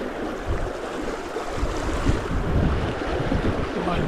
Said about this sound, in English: Wind's blowing straight in your face.